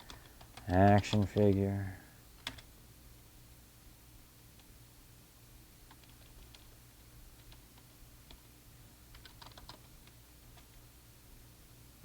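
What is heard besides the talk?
typing on a computer keyboard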